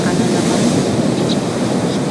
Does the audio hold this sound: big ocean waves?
yes